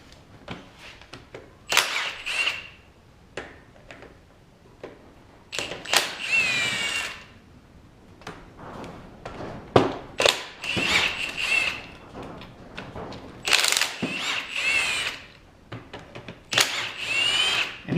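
A power drill works at a riding lawn mower engine, giving repeated short whirring bursts separated by pauses, close and fairly loud with clicks and handling noises between them.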